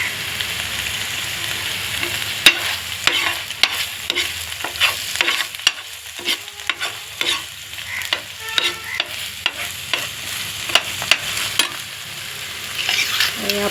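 Sesame seeds fry in hot oil in a pan for an eggplant fry while being stirred, a steady close sizzle broken by frequent sharp scraping and clinking strokes of the spoon, with no talk.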